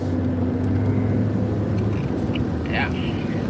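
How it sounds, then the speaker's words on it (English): Car driving through heavy Dallas, Texas traffic on the way to Plano, a steady loud broadband road and engine rumble heard from inside the vehicle, constant and without pauses. "This traffic is like just too much."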